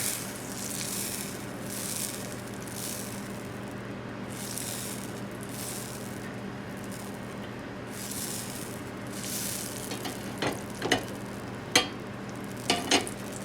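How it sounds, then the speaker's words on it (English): Butter melting in a pan gives a soft, faint hiss over a low hum, with a few sharp clinks and scrapes toward the end. "we're just going to finish melting our butter in here"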